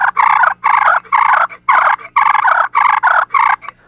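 A hand-worked turkey call imitates fighting hens or gobblers, rattling out about eight loud, raspy, evenly spaced bursts in steady rhythm, close and alone.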